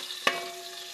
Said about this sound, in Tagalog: Igisa muna natin.